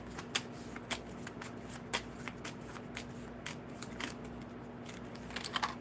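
Tarot cards being shuffled by hand, a steady run of quiet papery riffles and soft flicks over a faint background hum, with no talking.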